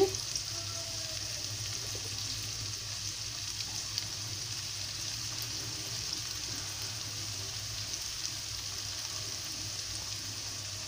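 Egg cauliflower curry frying in a pan on a home stove, a continuous even sizzle with a steady hiss and a low hum beneath, holding constant and undisturbed for several seconds.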